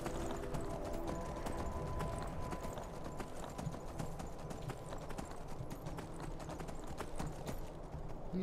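Horse hooves clip-clop steadily in the video game Skyrim as a rider travels by horseback, a rapid, continuous rhythm of hoof strikes over ambient game sound.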